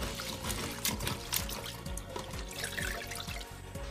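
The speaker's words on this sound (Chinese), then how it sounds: "最后再清洗几遍，沥干备用" Crayfish being rinsed in water for a spicy home-style dish: steady splashing and pouring water with sloshing, running continuously and fairly close throughout, with no talk.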